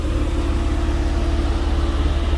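Porsche 997.1 Carrera 4S flat-six idling, a steady low pulsing rumble with even rhythmic beats, heard close from behind the car and alone.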